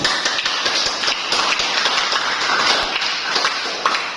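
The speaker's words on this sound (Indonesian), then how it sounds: "mari kita berikan aplaus kepada kelompok 2" Classroom applause for a student group returning to their seats, a dense steady patter of many hands clapping close by throughout, with no talking over it.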